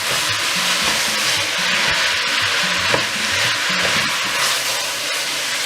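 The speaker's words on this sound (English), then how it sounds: "So I'm just going to kind of stir fry the minced beef." Minced beef stir-fries with blended garlic, ginger, pepper and tomato in a hot pan, giving a steady loud sizzle and hiss with occasional stirring scrapes, heard throughout with no talking.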